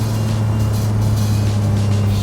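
A Ferrari 575M Maranello with a manual gearbox runs at full throttle in fourth gear down a track's back straight at about 160 km/h, a loud, steady, close engine roar that holds without a break.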